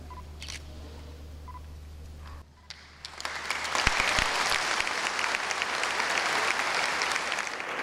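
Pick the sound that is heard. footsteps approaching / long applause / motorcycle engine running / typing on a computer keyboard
long applause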